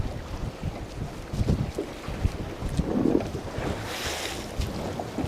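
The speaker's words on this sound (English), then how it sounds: "We've got some serious waves out here." Rough open water with strong waves buffeting a small fishing boat, wind rushing across the microphone in a steady roar, with choppy sloshing and thumps throughout and a hiss building near the end.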